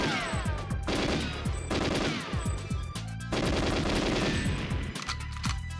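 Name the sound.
gun turrets firing, GoldenEye 007 video game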